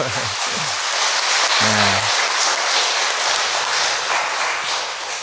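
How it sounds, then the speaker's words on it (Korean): A church congregation claps together at a Sunday Mass, a dense sustained round of applause filling the room, with a brief spoken voice near the start before the clapping carries on alone. "박수 한번 주시죠"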